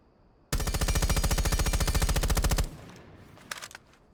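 Rapid automatic gunfire from a rifle fitted with a muzzle brake in Rainbow Six Siege, a loud sustained burst of evenly spaced shots lasting about two seconds, followed by faint scattered clatter.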